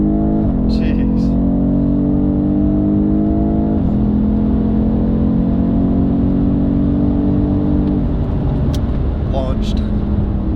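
A 2020 BMW M850i xDrive Gran Coupe accelerating hard from a launch, with a loud, steady engine roar that climbs in pitch through several gear shifts, each marked by a brief drop, heard from inside the cabin.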